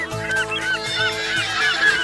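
An Angry Birds toy car blares a loud, repeated electronic honking squawk when its button is pressed, several harsh goose-like blasts in quick succession, close and alone.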